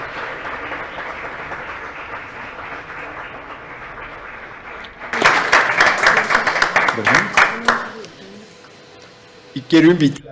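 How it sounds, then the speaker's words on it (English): Audience applause for committee members at a formal presentation, starting after a spoken introduction and swelling into a few seconds of loud crowd clapping before tapering off, with a voice resuming at the end. "please, a round of applause for the members of the committee"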